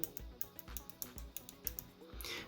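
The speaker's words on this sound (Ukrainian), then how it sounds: "Тут в нас стоїть механічна клавіатура. Це відчутно за звуком." Crisp, rapid key clicks from the mechanical keyboard of an Asus ROG Strix Scar G533Q gaming laptop, a steady run of sharp taps with small pauses, close and fairly quiet.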